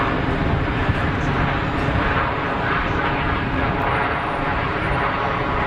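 An Embraer airliner at Geneva Airport produces a steady, loud jet engine roar that fills the whole stretch, broad and rushing with a faint high whine, with no clear talk.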